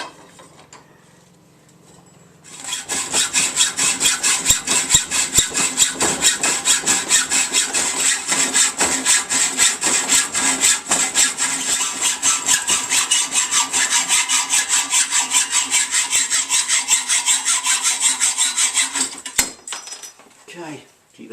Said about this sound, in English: a handsaw. No tools. No power tools